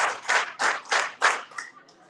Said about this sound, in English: A big clap, another one, and the biggest one.